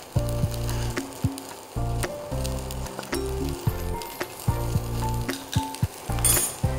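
Whole garam masala and bay leaves fry in ghee with a loud, close sizzle that is repeatedly broken into short bursts by brisk stirring, with knocks and scrapes against the pan.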